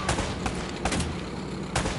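Gunfire in Uncharted: Drake's Fortune on PS4, with a few sharp shots standing out against a dense, continuous wash of game combat noise.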